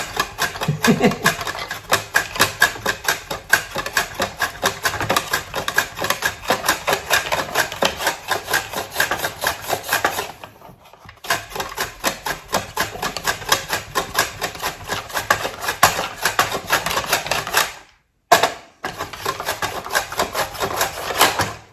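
A small kitchen slicer cuts a parsnip finely, giving a fast, steady run of crisp rhythmic clacks that stop briefly twice before resuming.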